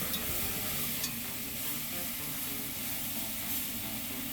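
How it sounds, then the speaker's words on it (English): Steak sears in a pot for a homemade vegetable soup, a steady close hiss and sizzle that carries on evenly without a break, with faint clicks of utensils and no talking. "when you start searing stuff, sometimes you want to dial up your heat back up"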